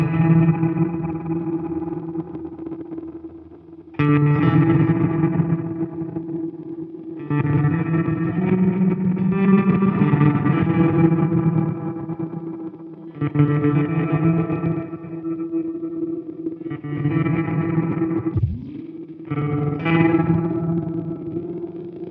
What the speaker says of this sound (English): reverse delay into reverse granular.